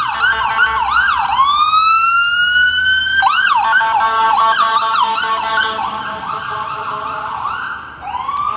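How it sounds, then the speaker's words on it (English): An ambulance siren wails loudly nearby, its rising and falling tones cycling repeatedly and shifting in pitch as it passes, with no one speaking. "Here comes the ambulance."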